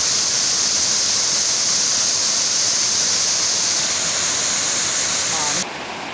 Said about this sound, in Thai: ชั้นนี้น้ำตกจะแผ่กว้างครับ